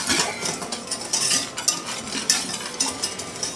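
A spoon scrapes and swishes through sugar and cornstarch in a pot. The stirring is close, gritty and steady, with small clinks against the metal and no talking.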